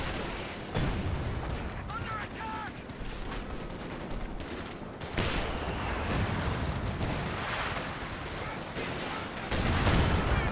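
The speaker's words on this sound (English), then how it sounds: "And one rocket actually goes through" Rocket artillery barrages and gunfire rumble through a Company of Heroes 2 match, with dense, continuous booms and crackling fire running loud across the whole stretch; a voice talks over the battle.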